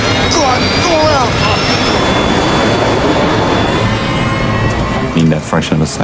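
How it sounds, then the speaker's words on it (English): Airliner jet engines spool to full throttle for a go-around in a Melon Playground remake of Asiana Airlines Flight 214, a loud steady roar filling the whole clip while voices talk over it. "I feel the thrust of the engine re-engaging full throttle."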